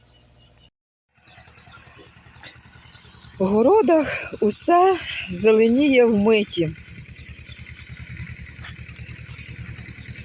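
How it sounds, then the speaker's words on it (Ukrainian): A tractor engine chugs steadily at a distance in a vegetable garden with a low, rhythmic putter, while someone speaks briefly over it in the middle. "у нас з самого ранку трактор на городі, туди-сюди"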